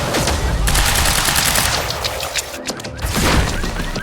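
Sustained automatic gunfire in the video game Quantum Break, a dense, loud fusillade of rapid overlapping shots with booming impacts, continuous throughout with brief dips.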